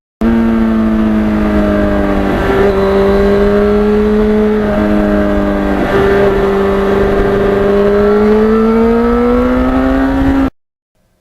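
A 1991 Yamaha FZR 1000cc motorcycle runs loud and close, its engine droning steadily through gear changes with brief dips and rising revs, then cutting off abruptly near the end.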